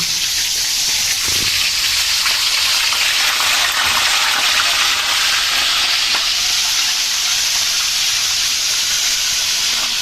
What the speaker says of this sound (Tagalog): mga magpiprito na po ng ating salmon